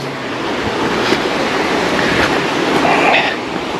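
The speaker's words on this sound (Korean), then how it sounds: "일급수 계곡물이 철철철 흘러서 내려옵니다" Clear first-grade mountain stream water at Pocheon valley flows and gushes steadily over rocks, a loud, continuous broadband rush close by, with no talking.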